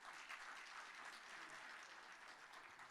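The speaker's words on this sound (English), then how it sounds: "Please, a round of applause to Professor Jeff." Audience applause at a university panel event on AI and journalism in Nigeria, a steady dense wash of clapping held at an even level throughout, with no voices over it.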